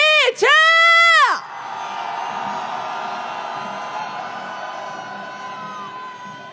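A crowd on a protest march calling for a president's impeachment cheers and roars loudly, opening with a few rising, sirenlike whoops, then settling into a sustained, broad wash of shouting.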